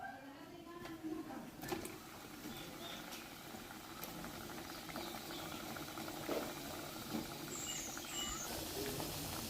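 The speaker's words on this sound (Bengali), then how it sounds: "ফুটন্ত তেলের মধ্যে আমরা ছেড়ে দিয়েছি দুটো ডো।" Gaja dough pieces fry in boiling oil with a soft continuous crackling sizzle and scattered small pops, faint and steady throughout.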